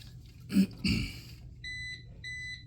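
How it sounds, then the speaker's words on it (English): A few muffled knocks, then two short electronic beeps, high and thin, from a device left unplugged while wiring a 120V outlet, sounding close by in a quiet room. "That beep is because something is unplugged that needs power."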